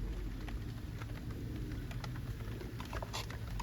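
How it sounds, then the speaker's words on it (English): Light rain just beginning to fall by a garden fish pond, soft scattered pattering drops over a steady low background rumble, faint and close, with no one speaking. "It just started raining now."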